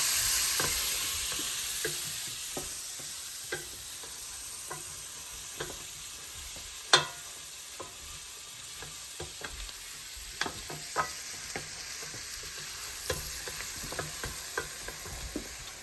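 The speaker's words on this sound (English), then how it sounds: "we're going to mix this until the onions are clear and translucent" Chopped onion sautés in a pan for turkey chili, a soft steady sizzle broken by scattered scrapes and taps of a spoon stirring, with one sharper clack partway through.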